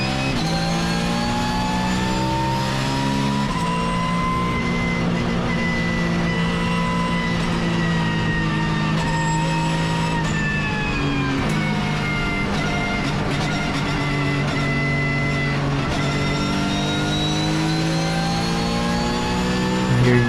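Porsche race car engine heard from inside the car during a race at Zandvoort Circuit, a loud, sustained high-revving drone that rises and falls through gear changes across the whole stretch, with no talk over it.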